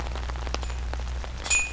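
Rain falling on a golf course, a steady close patter of drops over a low background rumble, with a brief brighter splash or rustle near the end and no talk.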